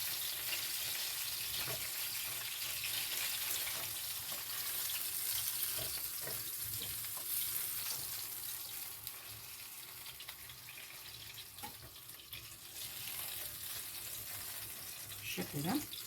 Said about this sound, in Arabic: نغلي الدهون طبعا.